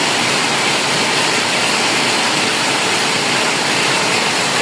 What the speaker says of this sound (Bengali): এই যে আমাদের উবেন মেশিন চলতেছে।